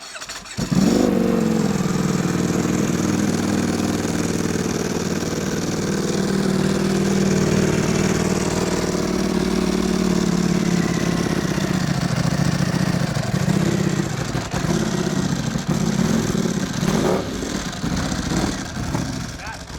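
A Ducati Panigale V4 Tricolore that is nearly out of fuel starts and runs loud and close, its engine note wavering and stumbling toward the end, with voices faintly in the background.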